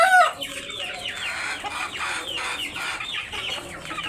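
A hill-breed rooster clucks in a close run of agitated, repeated throaty calls, steady and fairly loud with no talking.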